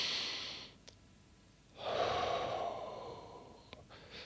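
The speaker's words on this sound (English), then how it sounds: "Take a deep breath." A slow, deep inhalation taken during a progressive muscle relaxation exercise, one long close breath drawn in softly after a short quieter pause, with faint airy hiss and no talking.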